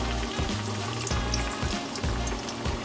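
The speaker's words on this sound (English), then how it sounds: "Into the frying oil it goes." Citrus chicken sizzling and crackling in hot frying oil, a dense steady fry with bubbling pops, close up and without talk.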